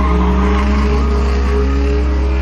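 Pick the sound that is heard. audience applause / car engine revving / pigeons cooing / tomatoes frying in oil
car engine revving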